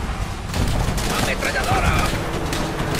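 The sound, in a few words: machine gun fire in Call of Duty World at War video game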